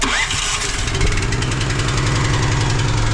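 A small engine cranks and catches, then settles into a loud, steady, slightly knocking idle that runs on close by without any talk.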